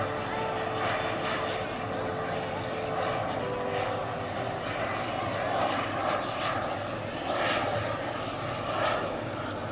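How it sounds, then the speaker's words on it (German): The four turbine engines of a large radio-controlled Boeing 747-400 model airliner give a steady, rushing whine that holds throughout. Someone speaks German over the engine sound. "Die vier Triebwerke scheinen wunderbar zu funktionieren."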